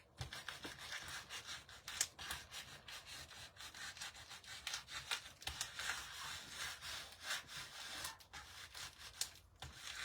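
A transfer being rubbed down firmly onto a hive-shaped wooden door hanger, giving a continuous scratchy rubbing sound with repeated strokes, close and fairly loud, with no talking.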